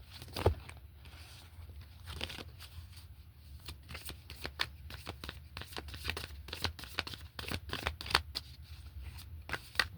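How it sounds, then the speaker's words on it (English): A deck of oracle cards is shuffled by hand, giving rapid close riffling and flapping bursts that repeat unevenly across the whole stretch, with no talking. "I'm trying to see if I can get a card to flip out."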